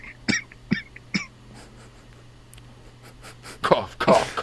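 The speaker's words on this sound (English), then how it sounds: "Cough, cough, cough, cough, cough." A person coughs three sharp times close to the microphone, then there is a quiet pause with faint breaths, followed by a louder rough cough and throat clearing at the end.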